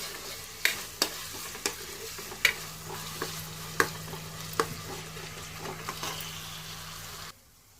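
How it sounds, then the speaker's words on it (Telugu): Onions fry in oil for a village-style fish curry, sizzling softly and steadily. Regular sharp clinks of a spoon stirring against the pan sound about every second, then everything cuts off near the end. "ఆనియన్స్ వేగాలి ఫ్రెండ్స్, గోల్డెన్ బ్రౌన్ కలర్ రావాలి ఆనియన్స్"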